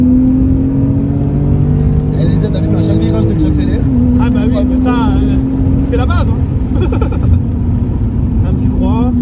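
A BMW M3 E46 with a manual gearbox and 343 hp engine pulls hard under acceleration, its loud, steady engine drone shifting pitch around a gear change while a voice talks over it throughout.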